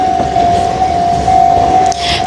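A train passes close to a hotel in Kamakura, a steady loud rumble carrying a sustained high ringing tone, like a crossing bell or wheel squeal, that cuts off near the end.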